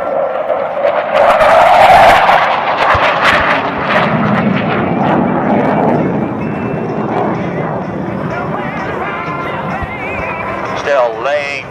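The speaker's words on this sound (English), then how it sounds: "Power comes up as Buick Eberhardt brings the A-4 Skyhawk in" An A-4 Skyhawk jet comes in with rising power during a Vietnam re-enactment at the Randolph Air Show, a loud, sustained roar that swells and then tails off, with an announcer talking over it throughout.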